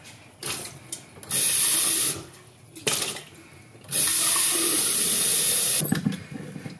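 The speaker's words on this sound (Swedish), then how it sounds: "fylla vatten" Tap water runs from a kitchen faucet into a bottle in bursts: a short trickle, then two longer strong gushes separated by quiet handling clatter, close and loud with no speech.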